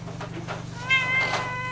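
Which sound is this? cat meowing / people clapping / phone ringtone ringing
cat meowing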